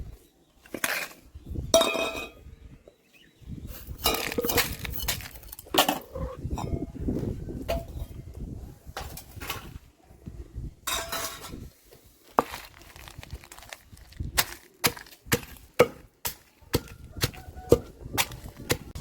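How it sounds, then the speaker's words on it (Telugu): Fried ingredients such as chilies and lentils being pounded and ground in a stone mortar for a chutney, with irregular sharp knocks and scraping clacks, close and fairly loud, some in quick bursts. "ఇప్పుడు రోట్లో వేసుకొని నూరుకుందాం"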